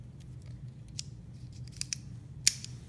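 Sharp scissors snip at a Mitsubishi Pure Malt pen: a few faint, scattered cuts close to the mic, ending in one crisp louder snip, with no talking.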